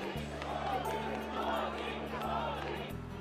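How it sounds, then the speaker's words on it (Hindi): A large crowd fills the Lakshmi Narayan temple in Vancouver, its steady roar of massed voices swelling in repeated waves like chanting, close and continuous throughout. "वैंकूवर के लक्ष्मी नारायण मंदिर में भीड़ मोदी मोदी के नारे लगा रही थी।"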